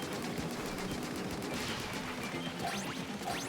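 Jet Squelcher ink weapon firing in rapid bursts during Splatoon 3 Salmon Run, a fast steady stream of sharp shots with a few game effect chirps near the end.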